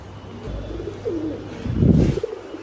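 Pigeons from a fancy collection coo softly nearby, a low, muffled burble that rises into a fuller, louder coo near the end over faint room noise.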